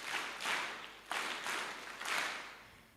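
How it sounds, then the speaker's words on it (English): Audience at the Egerton University first-year orientation clapping in three distinct bursts of applause, a steady rhythm of three, moderately loud in a large room, with no talking. "Let's give him 3 factorial claps."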